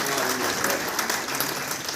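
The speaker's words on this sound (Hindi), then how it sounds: "भाई इनके लिए भी तालियां बजाएं, ताफू साहब के लिए।" Audience at a book launch event in Lahore applauding steadily, a dense close wash of many hands clapping throughout with no gaps.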